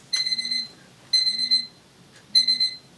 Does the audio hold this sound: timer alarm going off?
yes